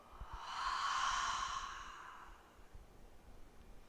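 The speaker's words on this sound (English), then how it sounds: "inhaling through the nose, exhale" A slow ujjayi pranayama breath through the nose: one long, airy exhale swells and fades over about two seconds, followed by quieter breathing in a calm, close setting.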